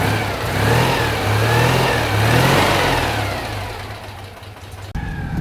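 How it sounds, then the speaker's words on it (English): Citroën 2CV engine running with a slight knock, suspected little-end wear despite new gudgeon pins; a steady mid-pitched twin-cylinder drone rises and falls in revs for several seconds, fairly loud and close, alone without talk. "A bit of a knock going on, which we think is probably little end"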